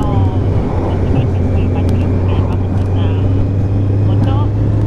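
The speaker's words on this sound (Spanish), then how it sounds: "Es una Zeta. Una moto para correr y carrerilla." A Kawasaki Z motorcycle engine runs steadily and loudly for the whole stretch, a constant low drone on a ride out to a mountain viewpoint, with wind noise and voices talking over it.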